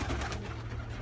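A pigeon near a loft coos softly, a low, brief burbling call under faint background noise, with no voices.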